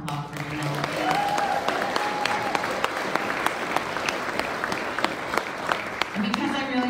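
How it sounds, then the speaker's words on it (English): An audience at a volunteer appreciation evening gives a sustained round of applause for an event organizer, steady crisp clapping throughout, with a voice speaking briefly near the start and a cheer near the end. "So one more round of applause for you."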